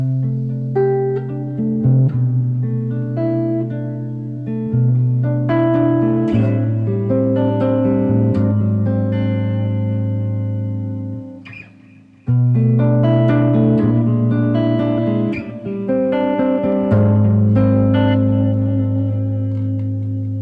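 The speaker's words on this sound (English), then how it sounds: "when I bring it down and put in here some little reverb and a nice little delay" Warm, clean 1964 Gibson SG Standard electric guitar playing melodic chords and single notes, washed in reverb with echoing delay trails, briefly pausing before resuming.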